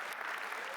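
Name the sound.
audience clapping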